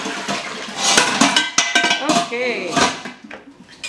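Cooked pasta is strained in a home kitchen, with water splashing and draining alongside clanking pot and metal colander knocks, loud and close, and a brief spoken word.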